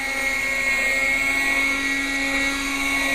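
A .18 nitro RC helicopter hovers at half throttle, its small engine giving a steady, high, whining buzz with a constant pitch, close and continuous throughout.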